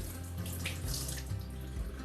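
Water streams steadily off a freshly washed, heavy knitted sweater of worsted weight yarn held double, a continuous close splashing pour with no pauses.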